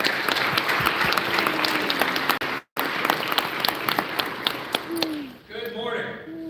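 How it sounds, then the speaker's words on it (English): Audience applause at a school honor roll ceremony, sustained clapping from a crowd with a brief cut partway through, then fading as a voice begins speaking near the end. "let's give an applause to Mr. Mayor McGrady"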